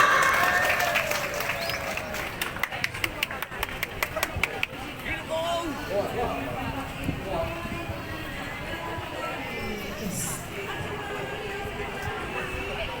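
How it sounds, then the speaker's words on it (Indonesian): Audience applause at an outdoor dance performance of traditional Nias dances in Sorake, a burst of clapping in the first few seconds that gives way to a crowd murmur and an announcer talking over it. "Beri tepuk tangan yang meriah."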